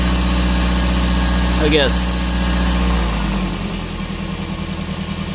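A Toyota minivan engine idles steadily with a low, even hum right after a PCV valve check, its note shifting and settling slightly partway through while someone speaks briefly over it.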